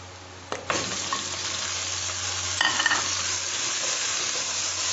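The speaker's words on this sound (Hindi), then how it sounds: "और इसको कर लूंगी मैं फ्राई" Pieces of meat sizzle and crackle steadily in a pan with onion and garlic while cooking Multani aloo gosht, with a louder burst of frying as the meat stirs in and then an even, close hiss.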